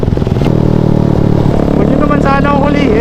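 A Raider 150 motorcycle fitted with an SC Project exhaust revs loudly and steadily up close on a city street, its raspy engine note rising and falling amid traffic noise, with a voice speaking over it.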